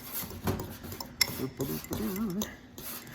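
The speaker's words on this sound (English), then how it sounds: "I'm gonna mix those up just a little bit" Dry hummus ingredients are stirred together in a bowl, making a run of close clinks, scrapes and rubbing sounds with uneven pauses between strokes.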